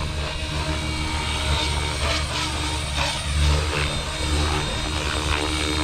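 Radio-controlled helicopter with a Spektrum FC6250HX flight controller on its first flight, a loud, continuous close whine of motor and rotor with slight rises and falls in pitch.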